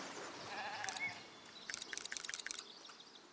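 Sheep bleat in the city-building video game Foundation: a wavering bleat near the start, then a rapid pulsing run of bleats, game-like and clear over faint background noise.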